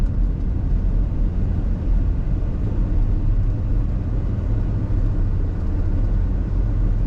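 A Ford OBS truck with a fuel delivery issue idling in gear, a dense low rumble that holds steady and loud for several seconds with a slight momentary dip, no talking.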